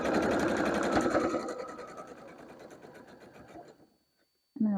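A sewing machine back stitches a dress seam, a rapid close mechanical whir that slows and stops, followed by a short burst of talking at the end.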